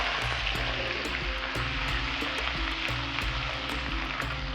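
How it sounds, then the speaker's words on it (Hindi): Garlic paste frying in hot oil while cooking a crispy prawn masala: a dense, steady sizzle and crackle close by, with a regular clattering, stirring rhythm running underneath. "ऑयल गर्म हो चुका है तो ये हम 1 चाय का चम्मच इसमें लहसुन का ऐड करेंगे"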